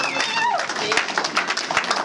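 A church congregation rises in acclamation, loud overlapping voices mixed with scattered clapping and sharp claps throughout.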